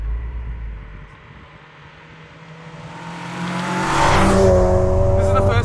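A Honda Civic Type R EP3 with a K20 engine pulls away, its engine note rising steadily as it accelerates, loud and close over road and wind noise.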